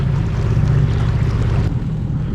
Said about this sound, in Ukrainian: А то за день тільки мотор один чуємо